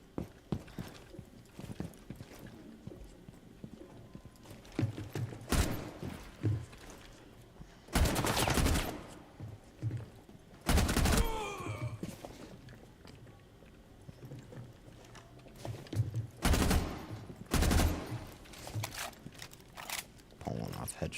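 Gunfire in Rainbow Six Siege rings out in sharp bursts and single shots at irregular intervals, loud and close, with rapid automatic volleys between quieter footsteps and game ambience.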